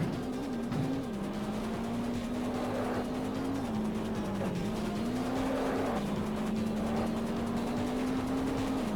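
Racing car engine from the Nintendo 64 game Top Gear Rally, a steady continuous drone with small pitch dips as it shifts, alongside tire squeal and skidding, loud and constant throughout.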